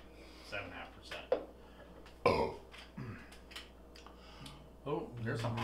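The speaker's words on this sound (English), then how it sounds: "I burped." A man burps after drinking a 7.5% double IPA beer, a short, loud throaty belch amid his own casual talk and small sounds.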